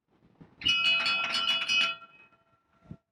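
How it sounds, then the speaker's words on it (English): A ship's bell on a custom aluminum sailboat rings with a fast clanging rattle for over a second, its bright tone lingering and fading, followed by a couple of soft thuds. "Give the bell a ring."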